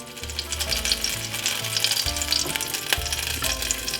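Scotch bonnet pepper sizzling in a hot frying pan on a stove, a steady crackling fry with bursts of spatter and occasional stirring clatter, close and moderately loud with no talking.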